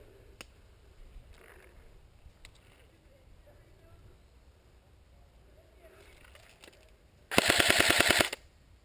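Airsoft gunfire during a game: a quiet outdoor stretch with faint voices and a few single pops, then a loud, rapid automatic burst of about a second near the end.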